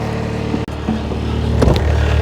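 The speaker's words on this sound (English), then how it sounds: "rather than listening to a screaming skid steer" A skid steer loader engine runs steadily while moving yard space for cattle, a loud continuous mechanical drone with rising revs near the end and no talk over it.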